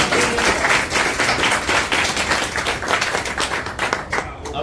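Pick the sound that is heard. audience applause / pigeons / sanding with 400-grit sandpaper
audience applause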